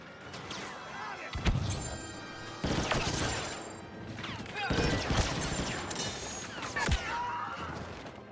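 Battlefield video game combat with a grenade blast and gunfire: several sharp bangs and bursts of shots over a busy battle din, with voices calling out between them.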